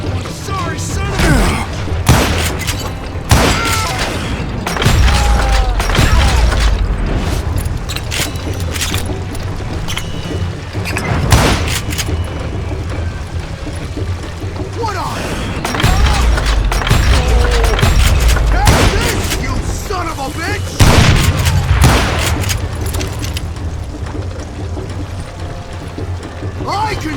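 Revolver and rifle gunfire in the Western shooter Call of Juarez: Gunslinger, repeated loud shots and bursts in a busy battle mix, with shouting voices and game sound around them.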